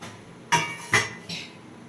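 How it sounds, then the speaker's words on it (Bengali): A lid comes off a covered pot of resting paratha dough in two quick metallic clanks and a softer final knock, close and distinct in a quiet kitchen. "দেখুন 10 মিনিট পরে আমি ঢাকাটা খুলে নিচ্ছি।"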